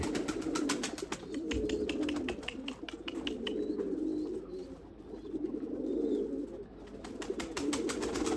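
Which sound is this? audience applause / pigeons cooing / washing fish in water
pigeons cooing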